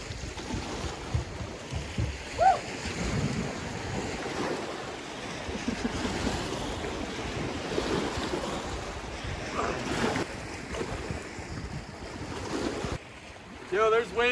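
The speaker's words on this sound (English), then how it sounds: "Yo, there's waves down there," Waves washing against the shore of Lake Atitlán at Santa Cruz La Laguna, Guatemala, a steady rushing wash with gusts of wind buffeting the microphone and brief voices near the end.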